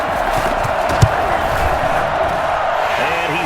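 A home crowd roars steadily in a Madden 21 football game, Ravens against Broncos on PS5, a dense sustained stadium din with commentary talking over it.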